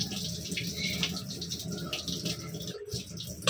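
A household tap runs steadily while utensils are washed, the water hissing at moderate volume with faint clinks and a brief break near the end.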